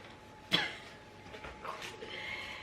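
A single sharp cough from a woman, followed by softer breathy throat sounds and faint room noise.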